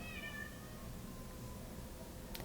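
A pet cat meows a few times, rising high cries early on, fairly faint over a low background hum, ending with a brief sharp click.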